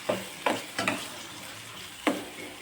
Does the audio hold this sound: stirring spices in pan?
yes